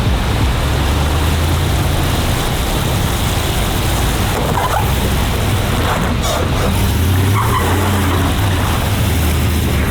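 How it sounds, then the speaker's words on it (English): Car front tires sliding and losing traction on a slick wet road, a continuous loud wash of tire and spray noise with engine hum underneath, swelling slightly midway and near the end. "My front wheels slid. I didn't get enough traction."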